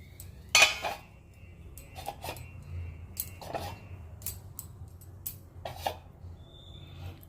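A metal lid sets onto a cooking pot with a sharp clank, followed by several lighter clinks and taps of cookware in a quiet kitchen.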